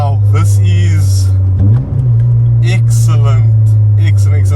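A Toyota TRD RunX engine, an older car, revs loudly and steadily with a strong low drone, dipping briefly then climbing back as the driver rev-matches on a downshift, with a voice talking over it.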